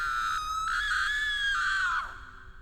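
A woman lets out a single sustained, high-pitched scream of terror lasting about two seconds, loud and close, then cuts off abruptly.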